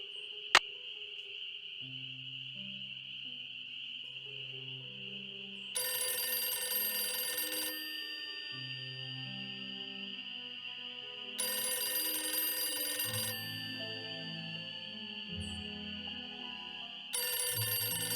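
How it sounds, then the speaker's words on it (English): Telephone ringing in the Nancy Drew: Ghost Dogs of Moon Lake video game: three loud, sustained ring bursts spaced several seconds apart, over a steady chirping cricket and night-insect ambience with low background music. "while I wait for the phone to ring"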